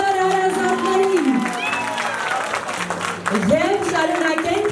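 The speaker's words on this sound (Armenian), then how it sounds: "նախ եկեք ծափարենք Սարգսյաններին" Wedding guests applaud the groom's family, a steady wash of clapping under a loud voice that talks over it while music plays along.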